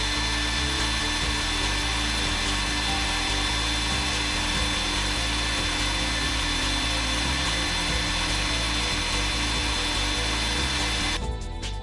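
A laminate trimmer on an automatic continuous post-forming machine, its cutting head with disposable blades spinning at 18,000 RPM, gives a loud, steady high-pitched whine that runs unbroken for the whole stretch.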